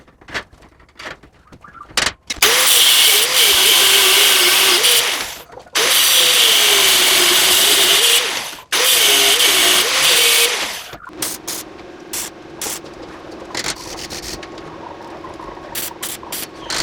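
Angle grinder with a flap disc grinding down an iron bar for a window grille, a loud steady whine in three long passes with brief stops, then quieter tool clatter and handling sounds.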